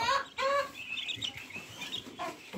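Chickens cluck and call inside an open coop on a hot day, several short hen vocalizations close by in quick bursts with brief pauses, no talking over them.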